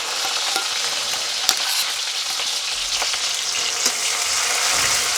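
Green chillies, ginger and garlic fry in hot oil with a steady, bright crackling sizzle and a few sharp pops and stirring clicks, and no voices.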